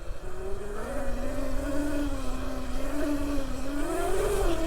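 An ETM RTR electric pit bike rides in sport mode, its motor giving a continuous rising and falling electric whine over steady wind and road rumble.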